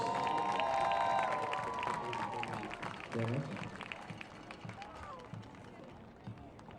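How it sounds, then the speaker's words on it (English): Crowd applause and cheering in the stands at a high school football game honoring senior players, a broad roar of clapping and voices under a loudspeaker announcer's talk and music, with sustained crowd noise throughout. "How about a nice round of applause for your senior Cardinal football players?"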